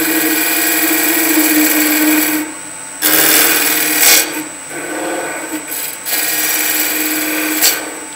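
A woodturning tool cuts a spinning blank on a lathe, rounding down a glue-block piece for a weed pot, a loud continuous rasping scrape broken by brief pauses and changes in pressure, with no talking.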